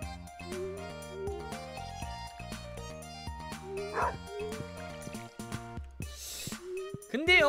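A farm dog in Stardew Valley yips and barks in short bursts over bright, tonal in-game music, with a few whimpering squeals toward the end.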